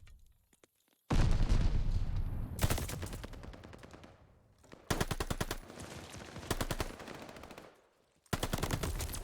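Bursts of rapid automatic gunfire from a competitive video game match, loud dense volleys separated by short pauses, several rounds of sustained fire with no speech.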